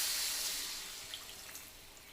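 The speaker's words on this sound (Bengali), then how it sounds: "বেশি জল দিলাম না, অল্প পরিমাণে জল দিলাম" Water from a tap or jug is poured into a pan of fried potatoes and spices, a brief hissing, splashing pour that starts strong and fades over about two seconds, with no talk.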